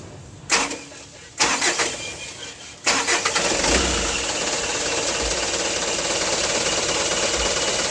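A car engine cranks twice in short bursts, then catches on the third try and settles into a steady loud idle, started during a drag link replacement with the steering wheel turned to the right.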